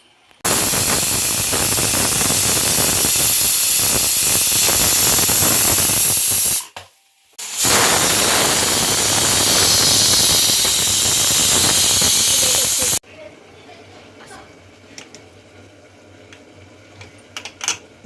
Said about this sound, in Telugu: 2 విజిల్స్ రావాలి